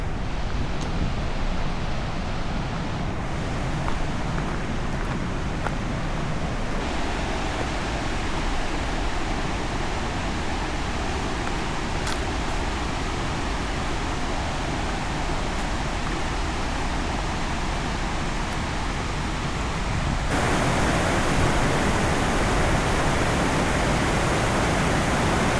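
Horseshoe Falls, a waterfall, roars as a steady, dense rush of falling water with no breaks, growing a little louder and brighter near the end; no voices are heard.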